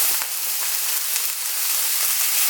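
Onions and peppers fry in corn or vegetable oil for a vegan patty filling, giving a steady, fairly loud hiss and crackle without pause and with no talking.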